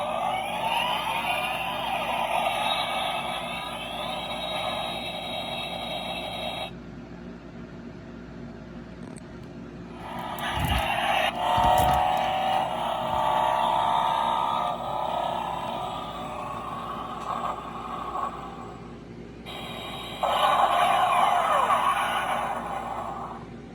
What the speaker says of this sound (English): It also makes noises when you roll the wheels.